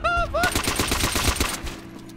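Assault rifle fire in the video game World at War, a rapid burst of close, loud shots over about a second and a half, with a brief rising synthetic tone just before it.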